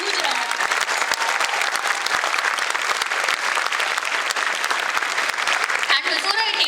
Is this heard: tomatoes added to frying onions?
no